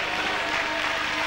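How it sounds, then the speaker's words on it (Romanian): Spectators applaud in a sports hall after a basketball game, a dense, steady wash of clapping filling the short stretch without a break. "aplaudat de spectatorii prezenți aici în sala sporturilor"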